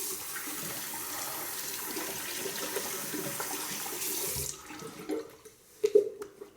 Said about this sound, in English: first we rinse that off with cold water. It's running a little bit.